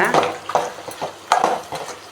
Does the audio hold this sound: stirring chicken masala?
yes